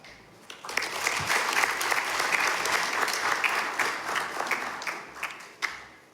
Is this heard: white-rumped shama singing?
no